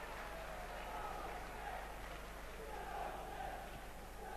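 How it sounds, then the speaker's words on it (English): Oxford United supporters cheering at a 1992 Anglo-Italian Cup football match against Brentford, a steady, distant crowd roar that holds throughout without clear peaks. "that's given the Oxford fans something to cheer about"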